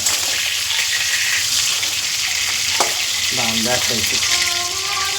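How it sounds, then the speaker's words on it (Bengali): Fish frying in hot oil until deep red, a steady loud sizzle running throughout, with brief stirring or scraping sounds and faint voice-like tones toward the end. "মাছটা খুব লাল করে ভেজে নেবো"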